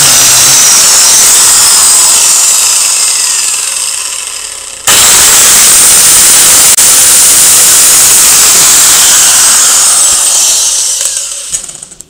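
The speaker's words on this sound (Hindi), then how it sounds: "तो चलो दोस्तों शुरू करते हैं और इसी को काटते हैं ग्राइंडर से।" An angle grinder cuts into a PC hard disk: a loud, harsh, continuous high-pitched grinding whine that breaks off briefly midway, then resumes steadily and fades at the end, with no talking.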